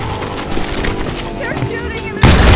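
Gunfire in the Western video game Call of Juarez Gunslinger, a busy stream of rapid shots and impacts amid game sound, ending in a loud, heavy blast.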